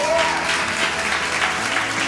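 Steady applause from a crowd of students, a dense wash of clapping that holds at a constant level throughout with no pauses.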